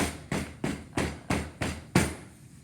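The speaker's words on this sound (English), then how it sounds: "So I hammer straight in." Six evenly spaced hammer blows drive tack strips for carpet, each a sharp knock about a third of a second apart with a short ring-off, the last strike slightly heavier, no talking.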